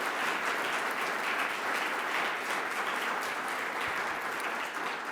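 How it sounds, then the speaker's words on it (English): A large audience claps in sustained, steady applause that fills the whole stretch evenly at a consistent loudness, with no voices talking over it. "Let's give them a big round of applause one more time."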